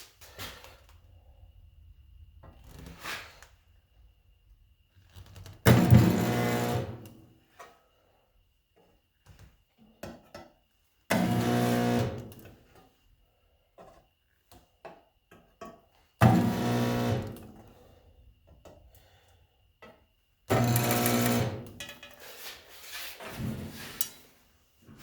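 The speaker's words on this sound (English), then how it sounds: "I'm just going to come across there and put some spot welds in it." A spot welder fires four separate bursts into a metal panel, each a loud, buzzing crackle lasting a second or two, separated by quiet gaps with faint handling noise.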